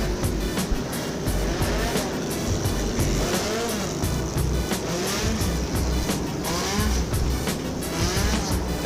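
Super stock four-cylinder race cars circle a raceway on practice laps, engines droning and revving steadily at middle distance with repeated passes and faint tire noise, no voices over them.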